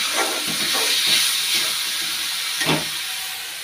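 Onion and garlic sauté in a hot pan with a continuous bright sizzling hiss, broken by a few soft crackles and pops.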